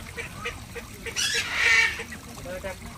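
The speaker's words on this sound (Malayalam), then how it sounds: "ഇഷ്ടം പോലെ താറാവുകൾ ഇതിനകത്തുണ്ട്" Ducks in an enclosure at an eco park near Adimali, Munnar, give a few honking, quacking calls close by, with one louder call rising in the middle over faint background voices.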